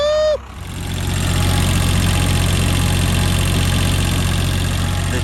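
A 1993 Fleetwood Bounder motorhome engine, started after sitting two years, catches after a brief high whine and settles into a loud, steady idle with a deep rumbling hum that continues without talk.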